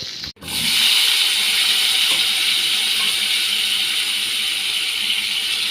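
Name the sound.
tomatoes added to a hot pan, sizzling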